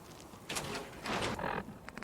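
A door slides shut in a post-apocalyptic role-playing video game, a couple of soft mechanical swishes and a thud at moderate volume over quiet game ambience, with a brief clicking rattle at the end.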